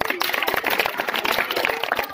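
Students in a school science quiz clap together in a short, dense burst of close, uneven hand claps.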